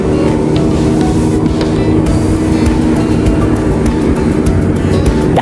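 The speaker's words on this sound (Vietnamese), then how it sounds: "chạy nghe tiếng bô rất là phấn khích luôn á" A Simson S51 motorcycle with a new exhaust rides on city streets, its engine running as a steady, loud, continuous drone with no breaks and no talking.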